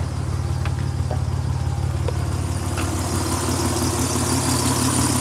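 A Nissan 300ZX Z31 idles at close range, a steady low rumble with a smooth, even pulse and a faint high whine from a squealing pulley, with a few small ticks over the top.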